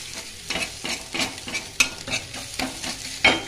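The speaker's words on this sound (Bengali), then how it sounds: "একটু ভুজিয়া করে নিলাম।" Eggs being scrambled into bhujia in a frying pan, rhythmic scraping strokes of a spatula every half second or so over a low sizzle, close and clear, with no voices.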